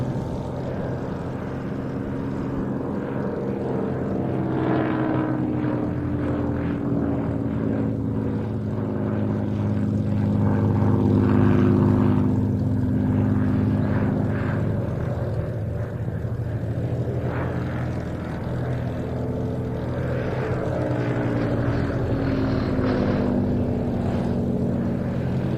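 Consolidated PBY Catalina propeller aircraft coming in to land at an airshow, a steady droning hum of radial engines and props that swells and fades slightly over about twenty-five seconds, heard at a distance and unaccompanied.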